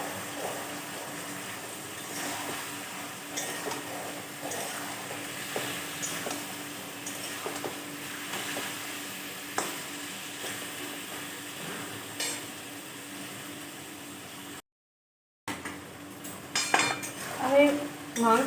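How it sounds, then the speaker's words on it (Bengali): Meat frying with turmeric in a pan, stirred with a utensil: a steady soft sizzle under repeated clinks and scrapes of metal against the pan, with a brief gap of silence near the end. "আর এই মাংসটা একটু ভাজা হয়ে গেছে"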